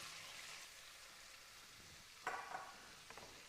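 Ginger, garlic and green chilies frying in oil make a faint, steady sizzle, joined by a short burst of louder crackling and a few scraping stir sounds near the end.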